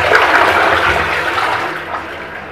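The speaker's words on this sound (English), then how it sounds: "The water that has been used for hand washing will be redirected to the pedestal system for the next flush" A pedestal toilet in a Singapore HDB flat flushing with water recycled from hand washing, a loud close rush of water that starts at once and tapers off over about two seconds, with no voices.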